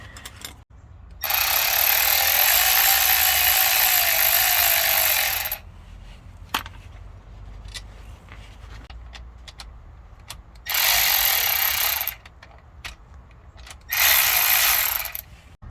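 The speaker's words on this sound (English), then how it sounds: "The first step in installing the rear skid plate is going to be to loosen these two bolts and remove this one." Bolts being loosened and removed from the rear skid plate mounting on a 2022 Subaru Crosstrek, heard as long loud bursts of a power tool whirring, three runs separated by quieter gaps with small clicks.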